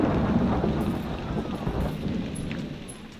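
Heavy rain pours during a thunderstorm in the theme park builder game Parkitect, a loud low rumble of thunder rolling beneath the dense hiss of rainfall and slowly fading toward the end.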